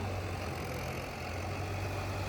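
A tractor from the Suha, Hoshiarpur area idles at a trolley-pulling competition with a low, steady rumble and hum, unchanging throughout the short stretch.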